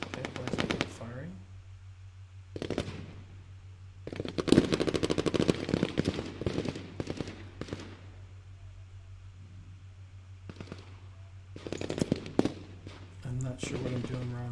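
Video game gunfire crackles in rapid automatic bursts, several separate volleys with quiet gaps between them, heard against a steady low hum.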